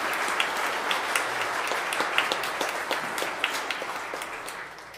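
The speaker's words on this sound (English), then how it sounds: "So big round of applause for Father Frank and all the good works that you do." Congregation applauding during a Sunday Mass in church, a dense, steady wash of clapping that holds for several seconds and eases off slightly toward the end.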